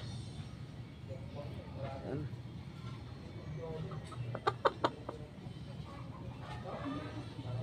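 Large fighting roosters cluck and squawk amid a busy outdoor crowd murmur in Malanday, with a short burst of sharper calls standing out midway.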